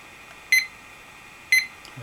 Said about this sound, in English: we should hear the alarm.